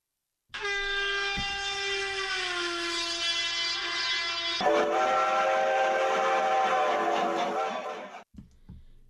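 A special train on the Srinagar–Katra rail sector sounds a long, loud, steady horn with layered tones, shifting pitch midway and then cutting off, followed by brief rumbles.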